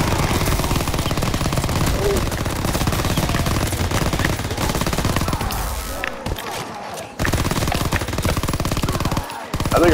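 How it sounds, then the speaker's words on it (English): Sustained submachine gun fire in Call of Duty WWII zombies mode, loud rapid automatic bursts hammering nearly nonstop, with two short pauses before firing resumes, under occasional player talk. "I think I found my favorite SMG"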